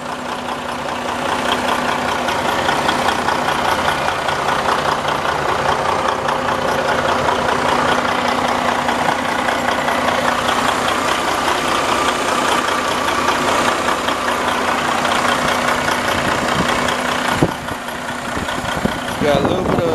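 A stock 2019 Freightliner Cascadia truck engine idles steadily and close for the whole stretch, a constant low rumble with a brief clunk near the end.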